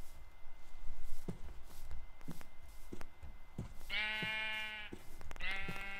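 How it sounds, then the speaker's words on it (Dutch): Sheep in the video game Minecraft give two clear, drawn-out bleats in the second half, following scattered soft clicks and footsteps. "Lekkere schapen zijn jullie, zeg."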